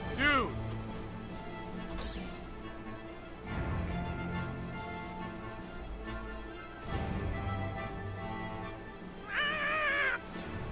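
A cat meows in South Park: The Fractured but Whole, several short calls scattered between game sounds and music, with a person talking over much of it.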